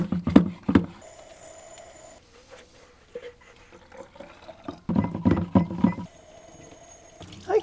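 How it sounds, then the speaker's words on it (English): Super hot water sprays up into an upside-down canning jar to rinse it, a close splashing, gurgling rush that comes in uneven bursts with quieter stretches between. "I can hold the jar upside down like this and just spray the super hot water up into it, and that rinses it out"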